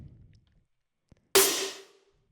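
A single snare drum sample played alone in an electronic production, preceded by a faint low rumble and a tiny tick, then one bright, sharp hit with a tonal ring that decays over roughly three quarters of a second.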